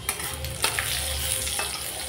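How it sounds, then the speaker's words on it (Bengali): Nigella seeds and a dried red chili split in two hit hot mustard oil in a wok, giving a sharp burst of sizzling and crackling with a few stirring knocks, close and steady. "আর দিয়ে দিচ্ছি কালো জিরা ফোড়ন।"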